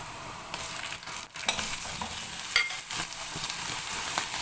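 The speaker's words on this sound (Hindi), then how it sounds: "5 से 6 मिनट के लिए अच्छी तरह से गोश्त को भून लेंगे।" Meat fries with browned onions for chicken biryani, a close, steady sizzle broken by several stirring scrapes and clatters, with no talk.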